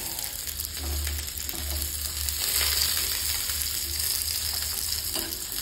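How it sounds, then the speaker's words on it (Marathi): Homemade fish fingers frying in hot oil in a pan, a steady close sizzle with crackling oil spatters throughout. "तेल खूप उडून यायला लागले."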